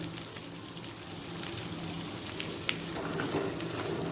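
Two medium-sized cut onions and capsicum fry in a hot pan with a steady, dense sizzle and occasional light stirring clicks, close and even throughout, with no speech.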